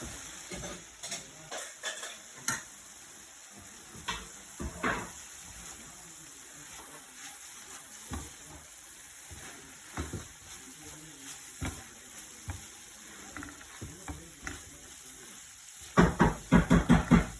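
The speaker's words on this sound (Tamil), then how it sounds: "வெஜிடபிள்ஸில் போட்டு நல்லா பெரட்டிவிடணும்" Vegetables with black pepper and cumin stirred in a pan, with irregular spoon scrapes and taps against the pan over a low sizzle, ending in a quick cluster of louder knocks.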